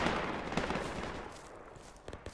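Gunfire in the Project Reality military shooter game, a dense spread of shots and rattling reports at moderate distance, fading slightly before a few sharper cracks near the end.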